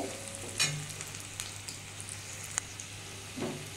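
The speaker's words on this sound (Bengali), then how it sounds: "দেখুন বন্ধুরা, আমার পেঁয়াজটা ভাজা হয়ে এসছে" Onions frying in a pan: a faint, continuous sizzle with a couple of soft clicks and a light spatula scrape, close but quiet.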